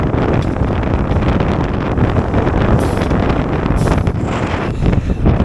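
Strong gusts batter the microphone in a steady, heavy roar that never lets up at Funland amusement park on Hayling Island, with no clear voices.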